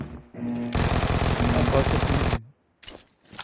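Rapid automatic gunfire from a gun video game blazes loud and continuous for about two seconds, followed by a few short separate bursts after a brief pause.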